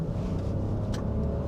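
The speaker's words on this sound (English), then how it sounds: "you'll hear the engine really working." A 2026 Nissan Rogue Rock Creek's small three-cylinder turbo engine accelerating, heard from inside the cabin as a steady, loud low rumble that holds throughout, with a brief hiss partway through.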